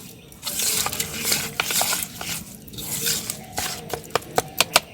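Semolina pancake batter is stirred with yogurt and a pinch of salt in a bowl: wet squelching, dripping strokes in an uneven rhythm, ending in a few sharper clicks.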